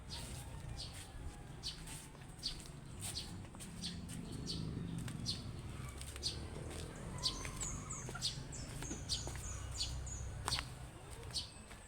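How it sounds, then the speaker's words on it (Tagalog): Domestic chickens cluck faintly and steadily near a breeding pen in the Philippines, mixed with scattered bird chirps over a low background rumble. "ipapakita ko po ulit sa inyo yung ginagawa ko breeding pen ng, ano, ng mga alagang manok"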